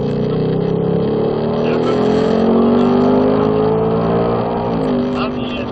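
A Ford Mustang accelerates out of a corner on a race track during a low-speed solo session, its engine a steady loud drone rising in pitch as the throttle comes on, with talk running over it.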